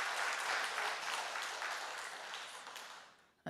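A church congregation applauds during a Sunday morning service, a full wash of clapping that slowly thins and fades before cutting off near the end.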